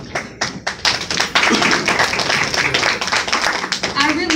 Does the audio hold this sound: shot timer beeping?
no